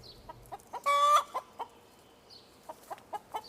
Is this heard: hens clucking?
yes